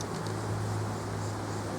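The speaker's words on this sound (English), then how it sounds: "Got some bees there." Honey bees buzz steadily around an open beehive during a queen check, a continuous close insect drone with a low hum underneath and no talking.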